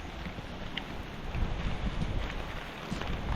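Light wind blowing outdoors past farm plots, a steady, soft rushing buffet against the microphone with mild gusts and no voices.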